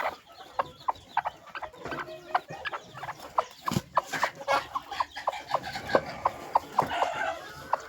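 Village hens kept for hatching eggs cluck in short, regularly spaced bursts close by, with soft rustling and low background noise between calls.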